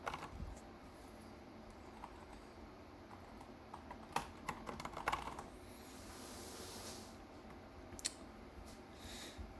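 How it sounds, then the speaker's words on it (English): Keys clack steadily on a Kinesis Advantage 360 ergonomic keyboard during a coding session, with faint, close typing and a few sharper, louder keystrokes standing out. "what keyboard is that? This is the Kinesis Advantage 360."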